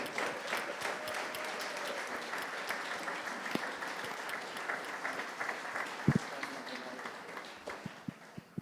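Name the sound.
applause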